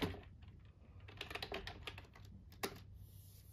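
Typing on the keyboard of a computer running Ubuntu on a KICKPI K2B development board: a close run of quick, irregular key clicks with a few sharper taps and a low steady hum underneath.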